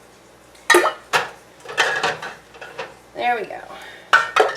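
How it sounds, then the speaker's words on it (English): Glass quart canning jars clink and knock against each other and the metal pot as they are set into a seven-quart canner, several sharp clatters in an uneven rhythm, close and fairly loud, with a brief spoken remark. "we're just going to stack our jars"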